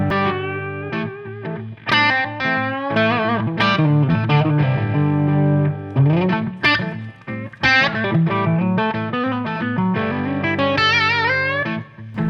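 Distorted electric guitar through a Blackstar JJN-20R MKII amp plays a steady rhythmic pattern with bright, sustained chords and licks, loud and close, with no talking.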